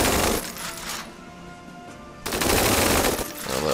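Rapid bursts of gunfire from attacking units in the Nintendo Switch strategy game Tiny Metal: Full Metal Rumble. The loud, crackling volleys come in two waves, with a quieter gap between them.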